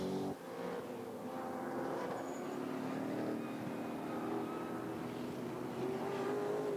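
A Maserati GT4 race car runs a qualifying lap at the Nürburgring, its engine a steady, continuous drone at moderate distance that holds its level throughout with a slight shift in pitch partway.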